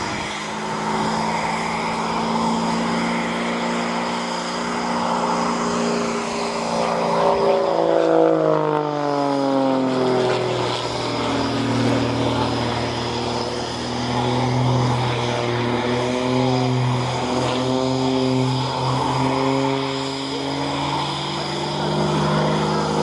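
An aerobatic propeller aircraft with a highly uprated engine and a bespoke aerobatic propeller performs stall turns, tumbles and rolls at a military air day, its loud engine drone rising and falling in pitch throughout as it manoeuvres overhead.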